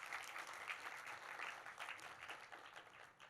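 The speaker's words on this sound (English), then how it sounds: "Let's give a hand of applause to all our speakers and panelists." An audience at a Women's History Month conference applauds its speakers and panelists, steady clapping with individual claps popping out of the wash, moderately distant and continuous throughout.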